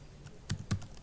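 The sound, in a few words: typing on a computer keyboard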